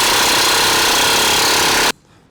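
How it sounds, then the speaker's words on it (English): An impact wrench loosening the rear upper control arm bolt on a 2019 RAM 1500 pickup during a lift install, one loud, sustained rattling hammer that cuts off abruptly into quiet. "you might have to get a socket on this part with your impact to help remove this bolt here"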